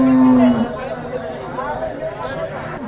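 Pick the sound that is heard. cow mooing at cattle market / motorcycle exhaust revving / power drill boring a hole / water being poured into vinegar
cow mooing at cattle market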